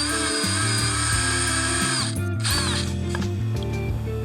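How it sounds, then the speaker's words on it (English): Power drill countersinking a screw hole in polycarbonate sheet, a close, whirring motor with pitch that rises and falls as the bit is eased in and let up in short bursts, no talking. "Go just deep enough to countersink the head"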